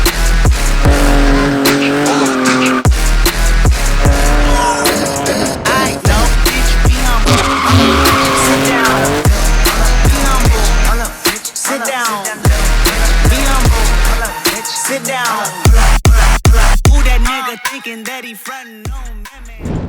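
A customised BMW E30 drifting, loud and close, with sustained tire squeal and a high-revving engine rising and falling throughout, interrupted by brief quieter gaps near the end.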